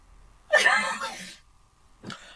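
A single sharp sneeze bursts out, followed shortly by a brief, softer vocal sound.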